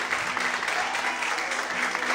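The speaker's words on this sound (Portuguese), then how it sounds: "Quantos podem aplaudir e exaltar ao Senhor nessa noite?" A Portuguese-speaking church congregation applauds and exalts the Lord during an evening sermon, a brief stretch of continuous, moderately loud clapping filling the hall.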